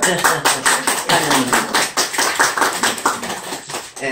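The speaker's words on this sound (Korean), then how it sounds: "박수." A small church congregation claps to welcome a visiting deaconess. The claps are sharp, close and fairly rhythmic, coming in quick pulses several times a second, and a voice can be heard through them.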